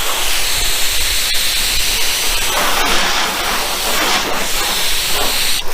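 Hydro Silex ceramic spray hisses steadily from a nozzle onto a car's paint, a loud, continuous close-up spray.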